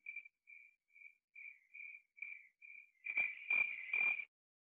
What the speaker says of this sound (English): I have a sound of crickets right here,